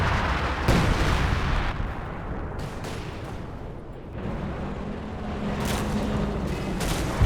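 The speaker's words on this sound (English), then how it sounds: "some base howitzer fire onto that forward battle group" Howitzer artillery fire in a Company of Heroes 2 match, heavy booming shots and rumbling impacts layered over a dense, continuous battlefield din with scattered sharper cracks.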